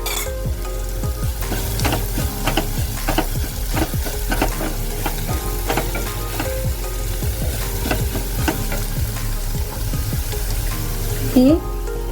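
Onion and tomato frying in a pan as a pinch of asafoetida goes in, a continuous loud sizzle with repeated scraping stirs and spoon clinks throughout.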